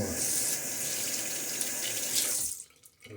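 Tap water runs steadily into a shaving soap lather bowl, a continuous close splashing stream that stops abruptly near the end, leaving quiet.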